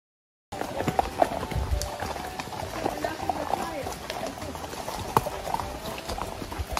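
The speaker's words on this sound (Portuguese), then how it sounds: "aqui tá os cavalos." Horses walk near a rental stable in Gatlinburg, Tennessee, their hooves clip-clopping in an uneven rhythm, with scattered sharper knocks. Someone talks over the sound.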